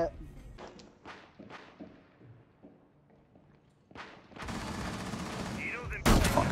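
Video game gunfire in a tense indoor fight, a handful of sharp separate shots followed by a dense, loud stretch of rapid firing and a final burst, with footsteps and a talking voice mixed in.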